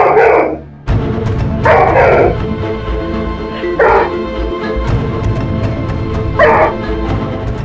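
Bruno the dog barks at a guest in four loud, close bursts spread over several seconds, with a rumbling growl between them.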